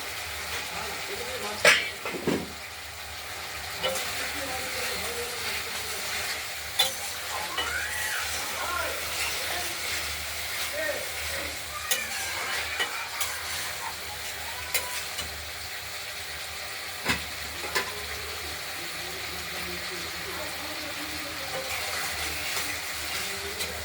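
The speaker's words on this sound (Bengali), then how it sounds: "এই পটলগুলো, ভেজে রাখা পটলগুলো খানিকটা কষানো হবে।" Pre-fried pointed gourd is sautéed and stirred in a pan for a spicy potato and gourd curry, with a soft, steady sizzle and occasional scraping knocks of the spoon, faint and low throughout.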